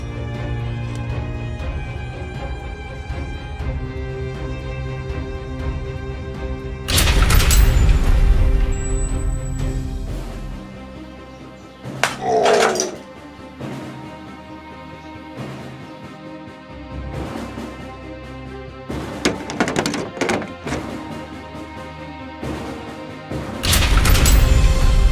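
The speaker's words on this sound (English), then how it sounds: "Use the catapults to take them down." Toy catapult shots smashing into walls in a Playmobil stop-motion battle between knights and fauns: several loud crashing bursts break through a steady music track, with a few shorter impacts between them.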